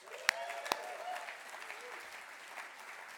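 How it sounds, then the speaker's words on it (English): Applause from the audience at an awards gala in Banff, soft steady clapping with a couple of sharp louder claps or whoops at the start, heard at a moderate distance. "Round of applause."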